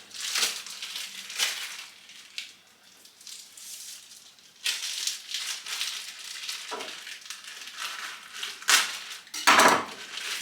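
A knife cuts open a plastic-wrapped food package in a home kitchen during holiday bulk cooking, giving scattered crinkling, tearing and crunchy scraping bursts of varying loudness with short pauses between, close up and with no talking.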